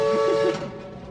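A Murray River riverboat steam whistle blows a steady, tonal blast that stops about halfway through, leaving a fading low rumble behind.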